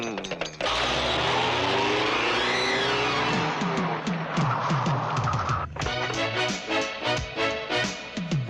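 A car pulls away with a rising engine whine and tire noise, followed by a rapid run of clattering, squealing sounds.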